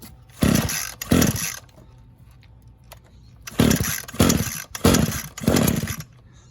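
An Echo string trimmer engine being pull-started at full choke outdoors, with five loud, close rasping pulls of the recoil starter in two bursts separated by a quiet pause, with no talk.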